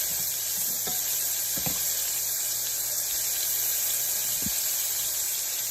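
Steak frying in a pan of hot grease, a steady bright sizzle with a few sharp pops scattered across it, close and continuous with no talking.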